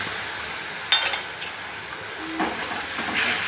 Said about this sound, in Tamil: வதங்கினோன்னு நம்ம எடுத்து வச்சுருக்கிற தக்காளி ஜூஸை ஊற்றிடணும்.